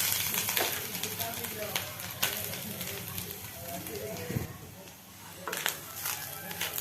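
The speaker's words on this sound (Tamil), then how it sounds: "நம்ம தேங்காவை இது கொஞ்சம் நல்லா வதக்கிடலாம்" Grated coconut frying in ghee in a kadai, giving a continuous sizzle with intermittent scraping and stirring clatters, fairly close with a faint voice underneath.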